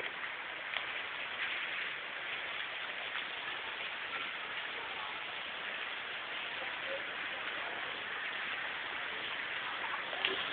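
Steady rain falls in a continuous hiss at a school in a rainforest setting, an even wash of drops heard at a distance with no breaks.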